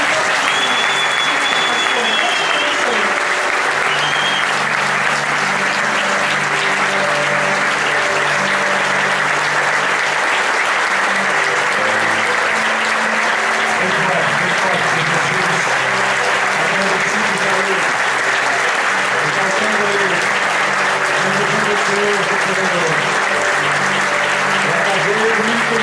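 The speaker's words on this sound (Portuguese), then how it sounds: "Aplauda o Senhor mais uma vez." Sustained loud applause from a large church congregation, steady clapping throughout with a preacher's voice briefly audible over it.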